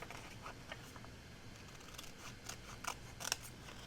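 Scissors trim the back part off a sheet of paper for a handmade envelope, giving a few quiet, close snips and crisp cuts that grow slightly louder near the end.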